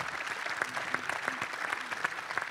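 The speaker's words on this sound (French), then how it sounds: "Je crois que vous pouvez les applaudir" An audience claps steadily for a couple of seconds, a moderate burst of applause from a modest crowd.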